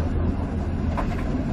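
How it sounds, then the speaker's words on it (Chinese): A large electric tram moves along a street in Pyongyang, heard as a loud, steady low rumble and drone with traffic noise, close by and unbroken. "可以看到这个很大的一个电车"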